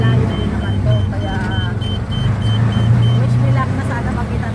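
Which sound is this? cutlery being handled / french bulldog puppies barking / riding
riding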